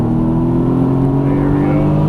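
A Mercedes AMG GT S on a Las Vegas race track gives a steady, loud engine roar under full throttle, a continuous low drone with strong harmonics as it accelerates, while a person talks over it.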